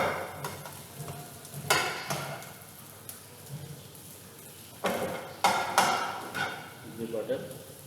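A spoon mixing cream sauce with grated nutmeg in a pan, giving intermittent scraping and clinking strokes against the metal with soft sizzle between them, some strokes louder and closer than others.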